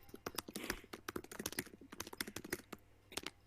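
Fast, irregular keystrokes on a hard keyboard, close and crisp, clattering in quick bursts for several seconds with no talk over them.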